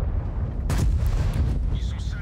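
A tank cannon fires a single heavy, booming shot in a tank battle video game, the AMX M4 54, loud and close over a rumbling engine drone, followed by faint mechanical clatter.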